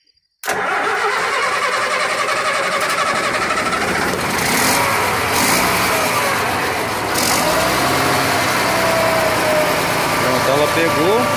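A river sand dredge engine fires up suddenly from near silence and keeps running with a loud, continuous roar, close by, with talking partly buried beneath the noise.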